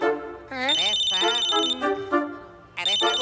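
A phone ringtone plays in steady repeating bursts, with excited voices talking over it.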